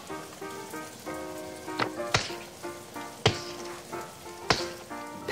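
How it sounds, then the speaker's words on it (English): Steady patter of rain on a surface, with a few sharp drips and taps standing out over a soft background tone. "That sounds like rain, says Peppa."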